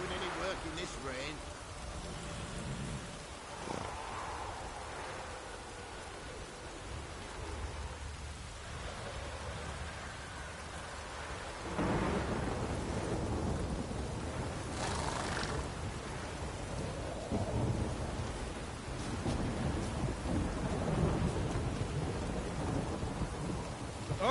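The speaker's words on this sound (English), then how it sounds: "No use doing any work in this rain." Steady rain hisses throughout while thunder rumbles and cracks in The Witcher 3, growing heavier midway, with a voice occasionally speaking over the storm.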